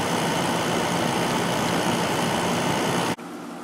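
A Holmes 5200 BTU window air conditioner running on its low setting gives a steady, loud, even hum with broadband fan rush that cuts off abruptly near the end, leaving a quieter background.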